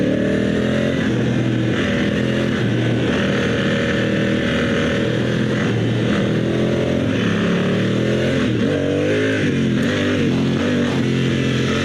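A dual sport motorcycle on Continental TKC70 tires sweeps through corners, its engine droning and rising and falling steadily under heavy wind rush, close and loud throughout.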